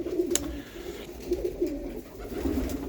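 Racing pigeons in a loft coo in low, throaty repeated rolls, close by, with a faint chirp and some background shuffling.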